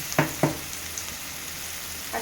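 Ginger garlic paste fries in a pan with a steady low sizzle. Two sharp clicks come early and a soft clatter comes near the end.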